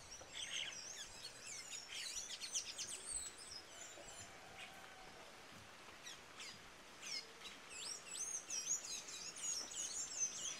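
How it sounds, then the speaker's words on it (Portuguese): Birds in the rain-soaked Amazon forest give scattered high chirps and short calls, faint and somewhat distant, over quiet wet ambience with no talking. "Até os pássaros estão mais animados, gente."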